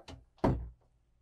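Pocket door in a 2025 Newmar Bay Star RV, giving a light knock followed by a sharper thunk as it slides and stops, close and clear in a quiet interior.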